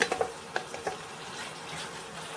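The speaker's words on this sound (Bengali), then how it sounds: "মাংসটা ভাজতে ভাজতে মাংসটা কতটা তেল ছেড়ে দিয়েছে আর মাংসটা খুব সুন্দর ভাজা হয়ে যাচ্ছে" Chicken liver and gizzard frying in oil, a soft continuous sizzle with a few light utensil clinks at the start, fairly quiet and close.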